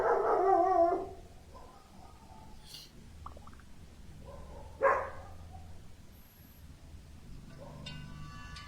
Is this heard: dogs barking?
yes